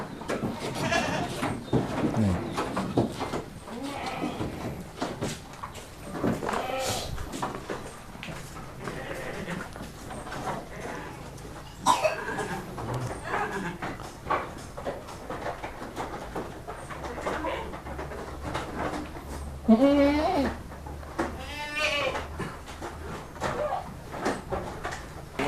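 Jawa Randu goats on a breeding farm bleating repeatedly, several overlapping wavering calls close by, with occasional low voices and farm sounds in the background.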